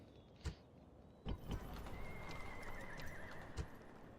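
Horses in a Rome Total War battle neigh and whinny with hooves clip-clopping, a few sharp thuds and a rising whinny over a steady game ambience, no talking.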